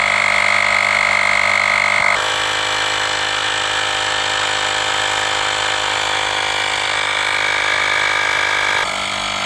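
An Asperx cordless compact tire inflator pumping a bike tire, a steady loud buzzing drone with a rapid pulsing motor, briefly changing pitch partway through and near the end.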